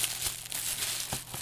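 A plastic packet crinkles and rustles close up while a parcel is unpacked, a continuous crackling with several sharper crunches, heard over a faint steady hum.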